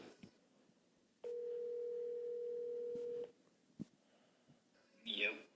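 A phone call is being placed: a few soft clicks, then a steady dial tone holds for about two seconds, followed by a brief thump and a short burst of brighter sound at the end.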